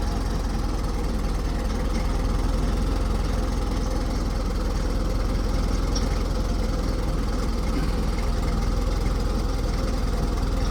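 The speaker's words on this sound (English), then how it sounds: "I guess it's the rumble of that motor that's just causing it to free spin." A motor idles with a steady low rumble near a machine set up on blocks, its big tire spinning freely, the noise continuous and even throughout with no talking.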